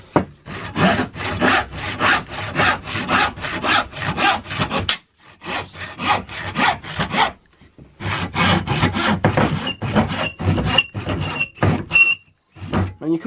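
A handsaw cuts through bamboo with close, loud, rasping back-and-forth strokes in quick runs, broken by a few short pauses.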